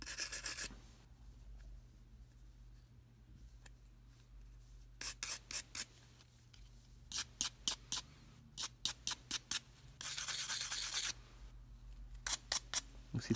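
A brush scrubs broken glass residue off a OnePlus 5 phone chassis, soft close rasping strokes in short repeated bursts with quiet gaps, plus a longer steady scrub near the end.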